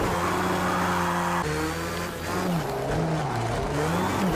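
Race car drifting in Project Cars 2, with steady engine drone and wavering tire squeal as the throttle and handbrake are worked, loud and continuous throughout.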